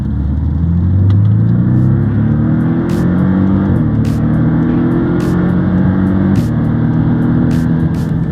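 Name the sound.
Porsche engine with sport exhaust revving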